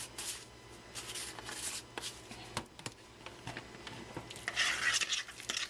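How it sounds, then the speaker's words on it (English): A spoon stirring a garlic-seasoned lasagna sauce mixture in a pot, with scraping and sloshing strokes in uneven bursts, close and moderately quiet, growing busier toward the end. "You mix it a little bit more."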